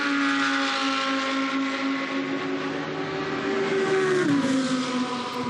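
GT2 race cars of the Fanatec GT2 European Series roar past at the Paul Ricard circuit, with a loud, continuous engine note that holds steady and then drops in pitch as the leaders go by.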